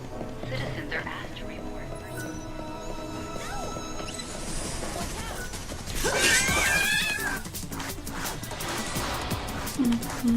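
A cat in Lightning Returns: Final Fantasy XIII lets out a short meow over layered game music and ambience, with players talking quietly underneath.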